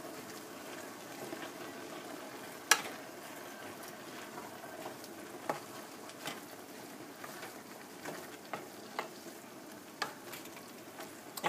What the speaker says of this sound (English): I'm going to just go ahead and start mixing this up